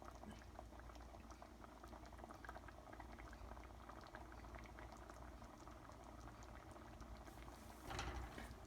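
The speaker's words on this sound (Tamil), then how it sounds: "அதனால கொதிக்க ஆரம்பிச்சிருச்சு." Kale keerai curry boils in a pot, a steady low bubbling and simmering with faint pops, swelling briefly louder near the end.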